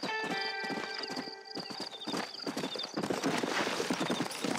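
A horse in Red Dead Redemption clip-clops along at a steady walking rhythm, close and clear, with a brief high tone early on and a busier rustling stretch later.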